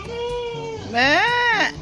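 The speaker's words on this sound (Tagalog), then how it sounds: "Ito po ang kambing naming visitor" A male goat bleats up close indoors in an office, a long, wavering cry that rises in pitch partway through, with a steady background hum.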